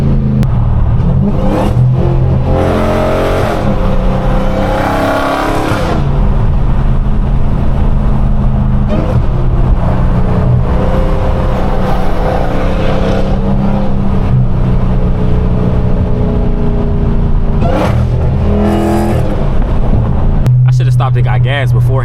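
A sports car accelerates hard in a street race against a Dodge SRT, its engine droning loud and close with rising revs and shifts, wind and cabin noise underneath, and a voice talking over parts of it.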